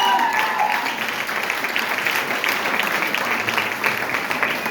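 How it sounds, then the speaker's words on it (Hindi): Audience at a large program applauds loudly, steady dense clapping from many hands, with a voice calling out over the crowd. "जोरदार तालियां साथियों, जोरदार तालियां।"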